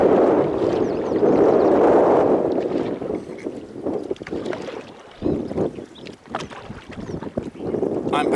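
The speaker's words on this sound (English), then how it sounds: "I'm paddling now" A canoe is paddled on the South Saskatchewan River, with water swishing and gentle splashes under gusty wind buffeting the microphone.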